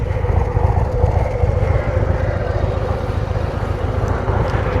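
Harley-Davidson Street Bob 117 motorcycle engine rumbling steadily on a night ride, a loud, close, continuous low throb mixed with wind noise and no talk.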